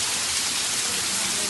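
Rain from the first shower of the season falls steadily, a dense even hiss of drops on surfaces that stays constant at a moderate level throughout.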